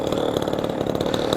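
A small 20cc gas engine on a Hangar 9 P-47 radio-controlled plane runs with a loud, steady buzzing rattle close by, with no voices.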